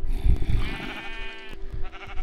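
Minecraft sheep bleat in the video game, a wavering nasal call over thudding in-game impacts, with a sharp hit near the end; no one speaks.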